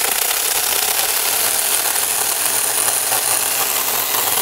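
A Tomyvic 6-inch mini chainsaw cuts firewood with a steady, loud, high-pitched buzzing whine that holds constant from start to finish.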